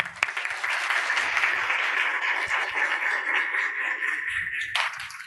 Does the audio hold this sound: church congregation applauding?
yes